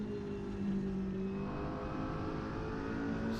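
McLaren GT4 race car engine in the Assetto Corsa racing game, a loud steady high-revving drone with harmonic tones shifting pitch as the car lifts and gets back on throttle, running continuously with no talk.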